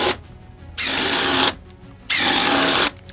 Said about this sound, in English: I think this is that oil impulse soft impact. I'm impressed how quiet it is.